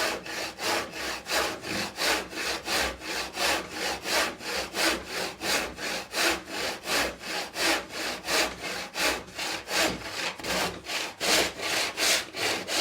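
A hand saw cuts through hardboard in steady, even back-and-forth strokes, each rasping pass rising and falling in a regular rhythm, close and alone.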